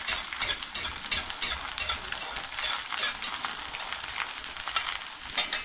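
Bacon frying in a pan for breakfast beside hash browns and eggs, a loud, steady, close sizzle full of dense popping and splattering crackles, with no talking.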